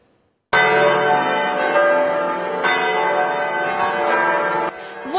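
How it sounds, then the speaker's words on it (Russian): Church bells tolling at a state funeral in Vilnius, a loud sustained ringing wash of overlapping bell tones that starts abruptly after a brief silence and continues throughout. "Так, под звон колоколов с государственными знаменами и всеми возможными почестями в Вильнюсе хоронят главаря"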